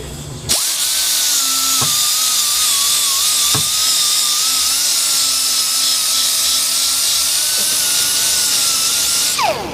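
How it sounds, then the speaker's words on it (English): A power tool fitted with a coarse blue Scotch-Brite pad strips paint from a CIK kart frame, with a loud, steady high whine that starts abruptly, runs continuously with slight pitch wobble, and cuts off at the end. "The blue Scotch Brite is pretty coarse, and it really takes this stuff down in a hurry."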